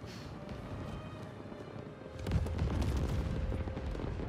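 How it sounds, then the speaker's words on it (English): Fireworks in the Marvel's Spider-Man 2 video game, a dense run of sharp popping bursts and crackles over a steady rumble, growing louder and busier about halfway through. "Oh, the fireworks!"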